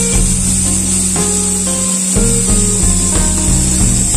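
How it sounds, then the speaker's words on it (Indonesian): An aircraft fuel booster pump RR52000, spinning near 11,200 rpm with worn bearings, gives a loud, steady high whine over a rough, fluttering grind that pulses throughout. "Hanya suara bearingnya agak sedikit kasar karena perlu diganti bearing."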